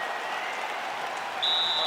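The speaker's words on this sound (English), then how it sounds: "they can take in the applause because they deserve it after that grappling exchange" Crowd applause in the UFC 5 video game after a grappling exchange in an MMA bout, a steady dense hiss of clapping throughout, with a brief tone entering near the end.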